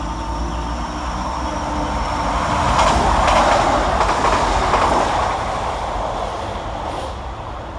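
A Transpennine Express class 185 diesel unit runs past Eccles railway station, a steady loud rumble of wheels and engine that swells mid-pass and then eases, with faint clickety-clack rail joints and no voices.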